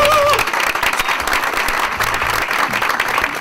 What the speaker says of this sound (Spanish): Así que recibamos aquí con muchos aplausos a Matías Lira y a César Caro.